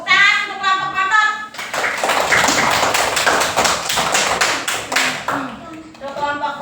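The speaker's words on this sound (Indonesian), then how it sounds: "Tepuk tangan untuk kelompok Bontot." Children in an elementary school classroom clap for a group of classmates, a few seconds of dense, steady applause, with a teacher's voice talking before and after.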